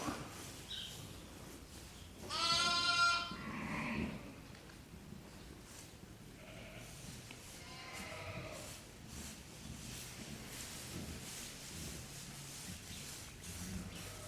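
Sheep lined up feeding on a farm at lambing time give a couple of short bleats, one fairly close and loud, another fainter, over quiet outdoor background noise.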